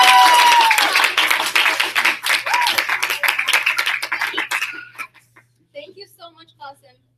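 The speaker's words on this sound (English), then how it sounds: "Can we give Qasim another round of applause," A live audience gives Qasim a loud round of applause with voices mixed in. The clapping thins out and stops after about five seconds, leaving a few faint scattered sounds.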